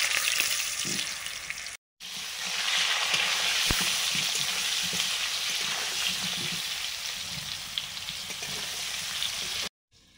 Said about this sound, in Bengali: মাংসের আলুগুলো ভেজে নিচ্ছি।